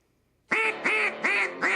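Four loud, evenly spaced nasal quacks from a duck in a hockey team commercial, each a short honking burst repeated in a steady rhythm, close and alone.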